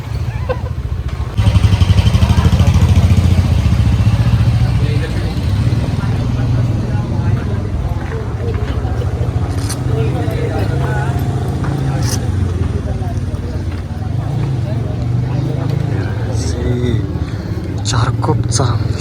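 A vehicle engine keeps idling steadily at a crowded Maghi Ganesh Jayanti festival street in Kandivali, Mumbai, a constant low rumble under loud crowd noise and people talking, with occasional higher clanks above.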